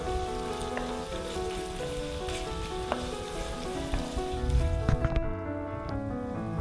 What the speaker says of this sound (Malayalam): സവാള നന്നായിട്ട് വഴന്ന് വന്നിട്ടുണ്ട്